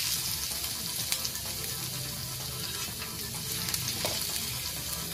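Finely chopped ginger frying with roasted cumin in a pan, a steady close hiss and crackle of hot oil throughout, with faint stirring scrapes under the constant sizzle and no talking.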